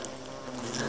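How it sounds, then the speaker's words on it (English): Bees buzzing inside a car, a dense continuous insect drone close by, steady and unbroken for the whole moment. "The car was too full of bees."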